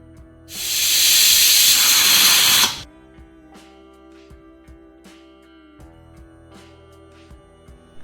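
A pressure cooker boiling desi chickpeas in salted water lets out one loud, sustained steam hiss for about two seconds, then falls back to a quiet simmer with faint clicks.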